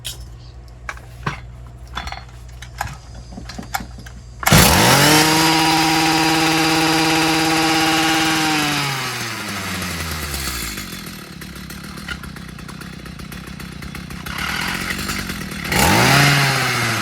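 A Stihl FS55 string trimmer with a suspected electrical or carburetor fault is handled with a few light clicks before its two-stroke engine fires up, revs loudly with a rising whine, settles into a steady idle, then revs up again.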